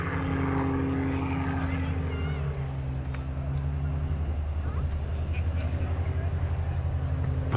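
Michael Wiskus's aerobatic propeller airplane drones loudly overhead at the 2020 New York International Air Show, its engine pitch rising and shifting as the plane dives toward show center, with voices audible underneath.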